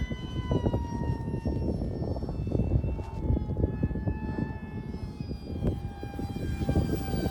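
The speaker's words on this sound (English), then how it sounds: "Let's get this thing in the air. F-86, we're taking off into the wind." E-Flite UMX F-86 electric RC jet flying overhead, a steady whining ducted-fan drone with high tonal harmonics, continuous and fairly even over rough background noise.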